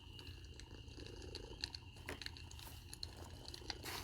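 A cat named Contessa purrs close and steady beside a fire, a soft continuous rumble with faint clicks and crunchy textures scattered over it, no talking.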